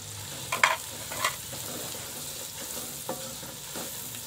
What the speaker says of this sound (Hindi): मसालों को अच्छी तरह मिक्स कर लेना है।